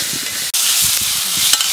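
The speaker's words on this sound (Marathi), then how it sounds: "चांगलं असं आपल्याला तेलामध्ये असं परतून घ्यायचं." Chopped ridge gourd pieces and coriander sautéed in hot oil, a loud, close hiss of frying with short scrapes and knocks of a spoon stirring the pan.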